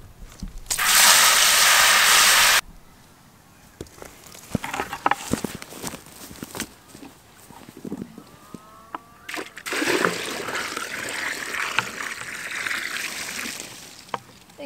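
Fresh water gushes loudly from a hose at a rural Australian homestead for about two seconds, followed by clattering and thumps, then a softer running splash of water near the end.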